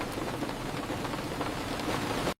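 Steady rain falling on surfaces, a continuous close hiss that cuts off abruptly at the end.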